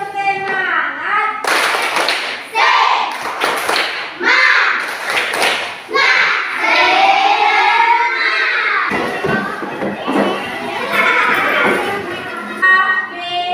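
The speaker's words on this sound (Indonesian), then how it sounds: "kita tepuk semangat dulu. Tepuk semangat." A school class doing a rhythmic 'tepuk semangat' spirit clap, loud sharp hand claps in patterned bursts mixed with children's chanting voices, close and lively throughout.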